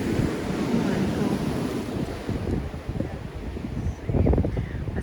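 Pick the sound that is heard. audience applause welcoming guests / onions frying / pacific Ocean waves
pacific Ocean waves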